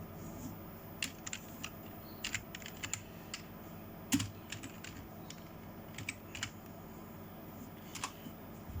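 Quick, light keystrokes on a computer keyboard, an irregular run of close clicks over a quiet room background, with no talking.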